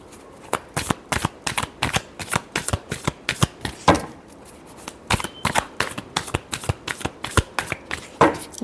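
Tarot cards being shuffled by hand, with a rapid run of crisp riffling bursts and flicks repeating in an uneven rhythm, close and clear with no talking.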